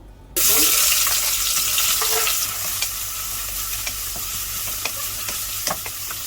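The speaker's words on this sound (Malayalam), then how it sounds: "ഇനി എണ്ണ ചൂടായി വരുമ്പോൾ നമുക്ക് ഉള്ളി ഇതിലിട്ട് വഴറ്റിയെടുക്കണം" Onions sautéing in hot coconut oil for a green chicken biryani, a loud steady sizzle that starts abruptly and runs on with occasional stirring scrapes and clicks, no talk.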